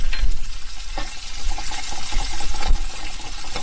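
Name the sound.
cashews and coconut pieces roasting in ghee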